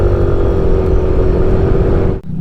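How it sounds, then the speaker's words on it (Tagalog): Large motorcycles ride past on a rural road near Minalungao National Park, a loud, steady engine drone close by that cuts off abruptly near the end. "Mga big bikers."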